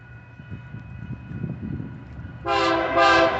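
A BNSF locomotive leading a short local train with one car rumbles nearby, then blasts its multi-tone horn loudly in two long sustained notes.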